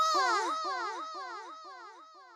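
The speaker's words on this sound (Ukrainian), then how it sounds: "Відлуння це звук, що лунає, коли голосно говориш у горах." A cartoon voice calls out in the mountains and its echo answers, repeating in several fading copies that grow fainter and more distant over about two seconds.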